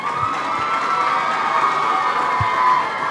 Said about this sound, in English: So I want you to now give yourself a big round of applause.